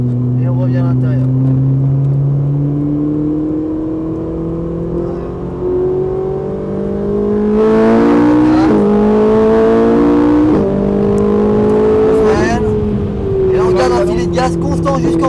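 A Ferrari 458 accelerates on the Haute Saintonge circuit, its engine droning loud and close in sustained rising tones with shifting pitch, while voices talk intermittently inside the car.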